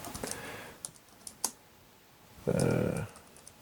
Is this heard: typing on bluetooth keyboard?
yes